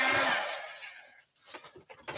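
A heat tool blows hot air over a handmade witch-themed craft card with a loud, close whooshing roar that cuts out after about a second, followed by faint rustles and light handling sounds.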